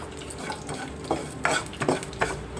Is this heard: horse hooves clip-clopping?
no